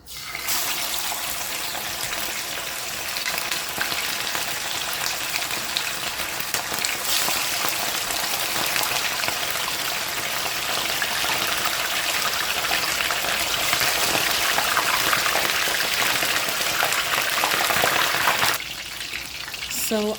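Snapper fish frying in hot oil in a pot for Jamaican brown stew, a loud, steady broadband sizzle that runs unbroken for about eighteen seconds before easing off near the end.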